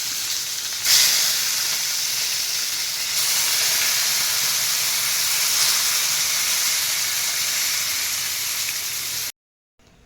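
Brinjal slices fry in hot oil with a steady, loud, hissing sizzle. It holds for about nine seconds with no talk, then cuts off abruptly.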